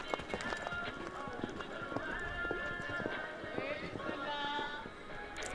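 Horse hooves thud and clip-clop on the arena footing during a show jumping round at an FEI Jumping World Challenge qualifier, with a commentator talking over the steady hoofbeats.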